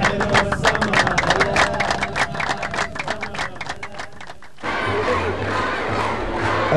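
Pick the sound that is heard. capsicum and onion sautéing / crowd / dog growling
crowd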